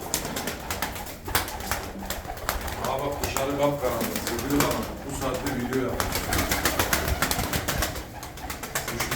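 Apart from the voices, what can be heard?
pigeons cooing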